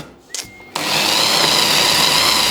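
A blender switches on after a few quiet clicks and runs loud and close, whirring steadily as it purées beans and eggs into a pâté.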